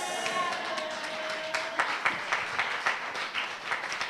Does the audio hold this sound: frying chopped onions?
no